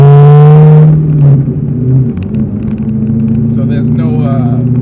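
Chevrolet Corvette C6 Z06 with the mufflers cut out, its engine loud and close, a strong high rev falling back into a deep rumbling idle that rises again, with voices speaking over it.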